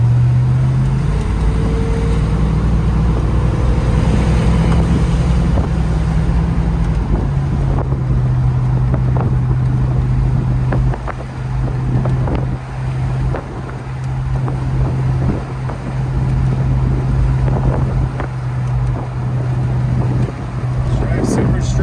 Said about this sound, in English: Nothing like driving a full convertible truck.